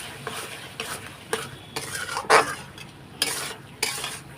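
Chickpea lentil curry sautéed in a pan: a soft sizzle under repeated scraping stirring strokes of a utensil against the pan, with a clink of metal partway through.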